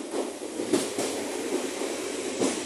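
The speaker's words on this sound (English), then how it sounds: "Coming in now is 802103 on the Great Western Railway 1 Charlie 76 service from London Paddington going to Penzance" Great Western Railway unit 802103 arrives on the Paddington to Penzance service in Cornwall, a steady low rumble of the train rolling in with periodic wheel clunks over rail joints, close and continuous, no talk.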